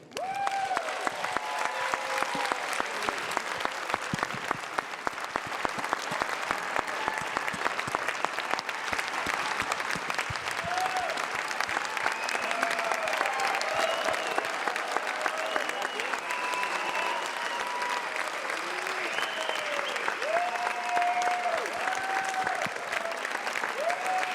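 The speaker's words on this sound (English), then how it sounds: "please give a big round of applause for the guy that started it all" A premiere audience for The Beach Boys movie breaks into sustained, dense applause with cheering voices, a steady wash of clapping filling the whole stretch without pause.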